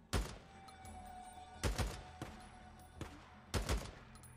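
Gunfire in the Days Gone video game, a few separated bursts of sharp shots with quick double and triple reports, moderately distant and quiet, no talk during the shots.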